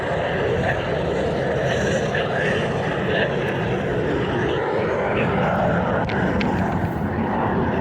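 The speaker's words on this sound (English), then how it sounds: "two jet fighters" Two jet fighters pass over the Anglesey coastline, a distant, sustained engine roar blending with wind and shoreline noise throughout, with no clear peak.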